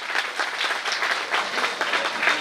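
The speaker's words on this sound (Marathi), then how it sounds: "आपण सर्वांनी टाळ्या वाजवायच्या आहेत।" Audience applause at a Marathi political gathering honouring a religious elder, a dense steady wash of many hands clapping throughout, fairly close and even in level.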